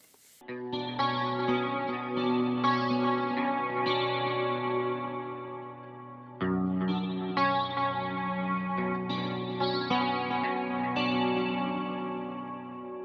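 A high-gain metal electric guitar tone through a BOSS GX-100 rings out in sustained, heavily distorted chords, played as two phrases split by a brief gap and heard alone without talk.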